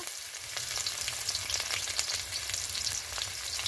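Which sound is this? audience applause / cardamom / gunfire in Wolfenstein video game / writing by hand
cardamom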